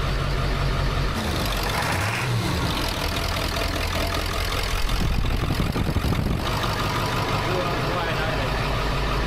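A Ford 7.3L diesel truck engine idles close by, a steady loud rumbling clatter that shifts in tone partway through, with a person talking over it.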